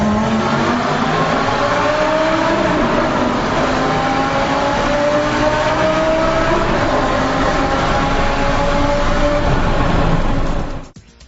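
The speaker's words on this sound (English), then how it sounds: "give it plenty in the low gears just to hear the exhaust note reverb back" A loud 2008 Lamborghini Gallardo Superleggera engine roars continuously with a deep, rumbling exhaust note, pitch shifting as it revs in low gears, then cuts off abruptly near the end.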